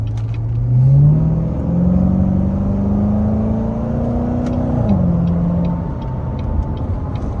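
A sports car engine revs up and holds a rising, throaty drone, briefly dropping in pitch near the end before settling, loud and close with no talking.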